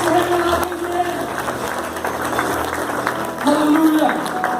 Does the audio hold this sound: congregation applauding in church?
yes